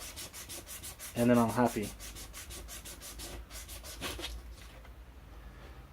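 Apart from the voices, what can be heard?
sanding a surface by hand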